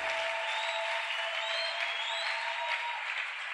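A church congregation applauds together at an evening service, a dense, even wash of clapping that holds steady throughout with scattered voices rising faintly within it.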